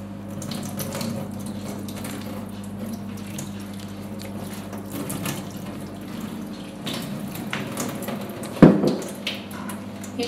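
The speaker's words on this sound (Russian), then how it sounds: "Промываю холодной кипяченой водой." Cold boiled water runs steadily over grated radish and cucumber in a kitchen, a soft continuous trickle and splash with light squishing and a brief louder clunk near the end.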